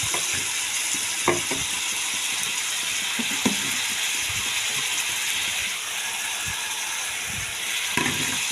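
Spice paste frying in a pan after potato and onion, a dense steady sizzle close and loud, broken by occasional clicking spatula scrapes and knocks, with no voices.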